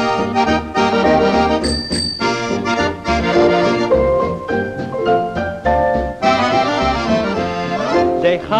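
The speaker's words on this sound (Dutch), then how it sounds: "Als ik tweemaal met mijn fiets bel" A bicycle bell rings twice over an upbeat song with sung vocals and full band accompaniment, the bright chimes standing out briefly near the start.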